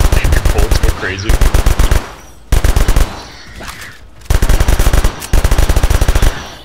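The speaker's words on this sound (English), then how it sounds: "If you stand inside of the ammo thing and shoot, your bullets go crazy." Loud automatic gunfire from the video game Orion: Dino Beatdown rattles out in rapid bursts, with several sustained volleys broken by brief pauses, close and dominant throughout.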